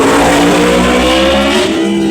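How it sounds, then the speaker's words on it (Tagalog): A noisy motorcycle passes by, a loud, droning engine that holds for a moment and then slowly fades. "Iingay naman yung dumaan na yung motor na yun."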